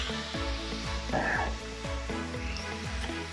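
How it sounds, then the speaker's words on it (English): A filet steak sears in a hot pan with butter, crackling and sizzling steadily up close while a rhythmic, repeating tonal hum plays underneath. "now we're just gonna take our filet and sear it"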